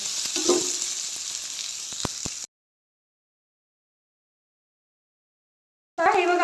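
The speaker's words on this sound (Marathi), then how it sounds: "आता कांद्याला थोडासा गुलाबी रंग तेलात परतून घेऊया आपण" Sliced onions fry in oil with garlic and chillies, a close hiss of sizzling that cuts to silence, then returns briefly with a clatter near the end.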